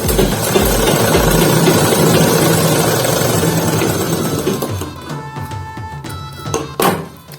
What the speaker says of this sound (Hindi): अभी मैं यहाँ पे सिलाई लगा रही हूँ